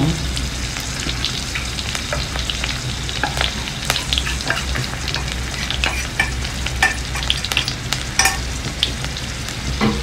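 Tempering spices spit and pop in hot oil for an ivy gourd fry, a steady close sizzle broken by sharp crackles and bursts throughout, with no voices.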